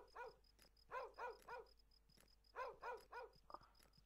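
Dogs bark in repeated bursts of two or three in the Western video game Desperados, fairly faint and clear, with a steady high electronic tone running underneath.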